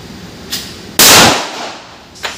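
Pistol shots from a .45 caliber handgun at a firing range: one sharp, loud close report with a short decay, framed by two fainter distant shots.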